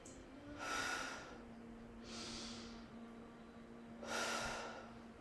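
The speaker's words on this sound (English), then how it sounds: "2 deep breaths" Two deep breaths during a yoga pose, each a soft, close airy inhale or exhale swelling and fading, with a third breath starting at the end; quiet room otherwise.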